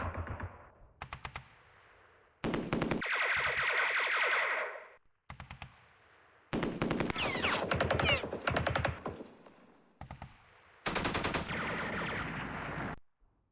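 Bursts of gunfire from units firing into a hex in a Vietnam War strategy game, heard as several loud, separate volleys and rattling machine-gun strings with short gaps of silence between them, and no talking.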